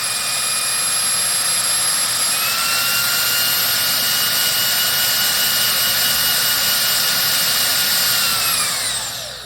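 An LG Cordzero A906 cordless vacuum runs in turbo mode with a loud, steady, high-pitched motor whine that shifts up in pitch briefly, then winds down at the end.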